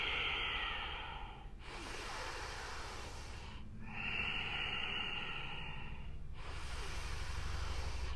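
Slow, steady breathing during a yoga exercise, long inhales and exhales alternating at an even pace, close and soft with no talking.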